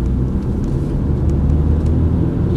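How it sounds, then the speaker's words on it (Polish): A car accelerates on a city road, heard from inside as a steady loud low engine and road rumble that holds without pause. "I rozpędzimy najpierw samochodzik."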